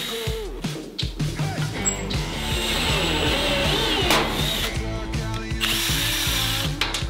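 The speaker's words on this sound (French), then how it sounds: "on va commencer à percer dans le châssis" A power drill bores into the chassis of a Renault 4L, a close, steady whirring with a rhythmic pulsing pattern that runs continuously for several seconds.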